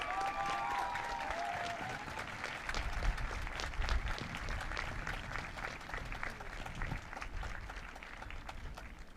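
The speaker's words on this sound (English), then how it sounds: "So all PK through 12 teachers, staff in the audience, let's give them a round of applause, guys." Sustained applause from a high school graduation audience in the Kearsarge Regional ceremony, dense steady clapping from a large crowd filling the whole stretch, moderately distant, with a brief voice at the start.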